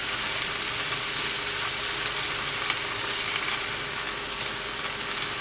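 Noodles and vegetables fry lightly in a small pan for a stuffed paratha filling, a steady close sizzle with soft stirring scrapes throughout and no talking.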